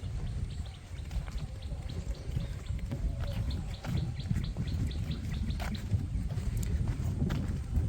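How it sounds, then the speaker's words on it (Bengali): Birds chirp and call outdoors in the Sundarbans under a cloudy sky, scattered bright tweets over a steady low rumble of wind and open-air background, with no one speaking. "আমি একটু চুপ করছি, পাখির আওয়াজটা শুনবো।"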